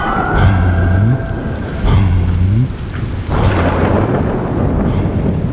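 Heavy rain pours down steadily while loud thunder rumbles and cracks in repeated bursts, close and powerful, with no one speaking.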